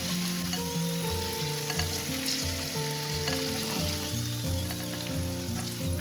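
Sausages fry in a pan with a steady, dense sizzle and crackle that stays at one level throughout, with no talking.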